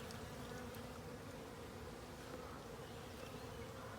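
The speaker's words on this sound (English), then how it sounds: "So we've got great coverage of bees" Honey bees buzz in a dense, continuous hum during a live hive inspection, close and steady throughout with no voices.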